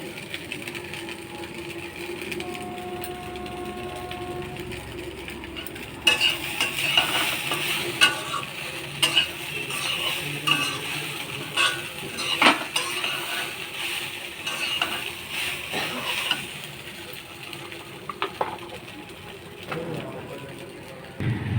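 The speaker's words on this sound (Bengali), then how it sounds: "এখন নেড়ে চেড়ে নেব।" Vegetables are turned and scraped around a cooking pan with a spatula, a continuous sizzle with irregular clinks and scrapes over about twenty seconds, growing busier after the first few seconds, with faint birdsong in the background.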